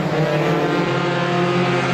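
Race cars roar down the front straightaway of a short-track speedway during a Roadrunner feature, a steady, loud engine drone with layered harmonic tones held throughout, no pause or voices.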